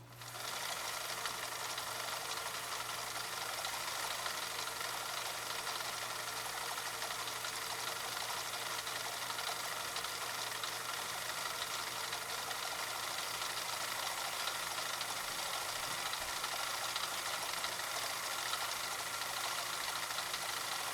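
A 1965 Husqvarna Viking 2000 sewing machine runs steadily at speed, its even mechanical whir and low hum continuing unbroken and fairly close for the whole stretch, with no talking.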